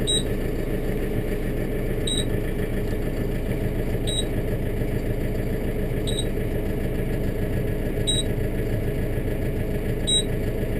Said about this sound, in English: That's what that beeping was, tells you it's in park.